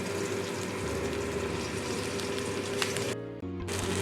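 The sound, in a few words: onion paste frying in oil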